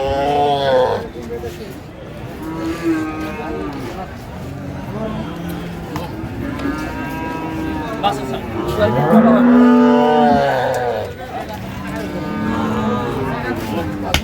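Dairy cows at a cattle market in Dinajpur, mooing loudly and nearby in long, drawn-out calls, one after another, over a steady murmur of crowd voices and people talking.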